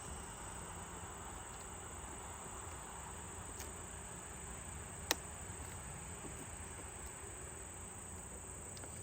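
Honey bees in an open hive during a mid-September inspection, full of nectar frames, give a steady, dense hum that stays even throughout, with one sharp brief click near the middle.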